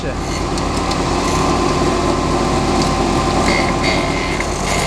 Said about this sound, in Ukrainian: ну що ж, то вже певно буде фінальний прохід